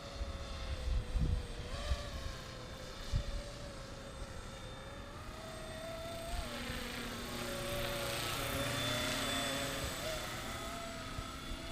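A Flisch 500-class Apache RC helicopter in flight, giving a steady rotor and motor drone with a slight high-pitched whine that shifts in pitch as it maneuvers, with occasional low thumps and bursts of wind noise.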